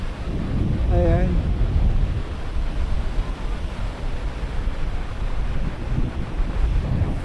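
Rough sea waves and wind along the Roxas City coast, a steady loud rush of surf and wind buffeting the microphone, with a brief voice near the start.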